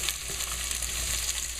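Close, steady sizzling in a heated pot while a nylon stir stick moves through the contents, a continuous dense hiss with no talk.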